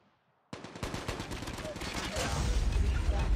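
Gunfire in COD Mobile bursts in after a brief quiet start, then runs as rapid automatic fire that builds to a dense, loud fusillade.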